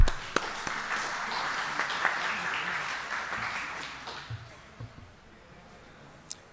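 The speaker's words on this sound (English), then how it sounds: "So let's have a huge round of applause for him." Conference audience at a Python event clapping for a speaker, moderate applause that fades gradually into quieter room noise with a few isolated sharp knocks.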